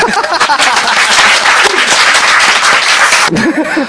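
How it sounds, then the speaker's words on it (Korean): Loud audience applause, dense and steady clapping from many hands, with a brief cheer or voice near the end. "박수 한번 부탁합니다"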